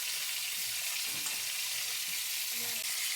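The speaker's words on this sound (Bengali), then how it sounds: "সেই পেঁয়াজের কুচিগুলো তেলের মধ্যে দিয়ে দিচ্ছি। যতক্ষণ না লাল লাল করে ভাজা হয়ে আসে" Chopped onions sizzle loudly and steadily in hot oil, a dense continuous frying hiss with faint stirring knocks underneath.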